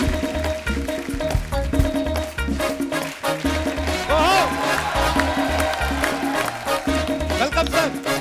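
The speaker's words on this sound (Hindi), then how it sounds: "जोरदार तालियों के बीच प्लीज वेलकम" Studio audience applause and cheering on a Hindi comedy talk show as guests are welcomed, a dense sustained roar of clapping and crowd noise throughout, with music mixed underneath.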